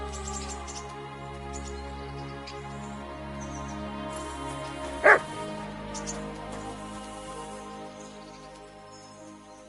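A dog barks once, sharp and prominent, in the medieval game Kingdom Come Deliverance 2, cutting through a steady hum of ambient music, followed by a fainter yip a second later.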